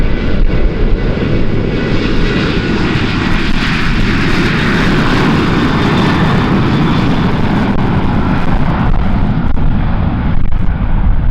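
An airplane takes off at Kagoshima Airport in heavy wind with gusts up to 39 knots, its engines giving a loud, steady roar that holds for the whole stretch, with wind buffeting the microphone.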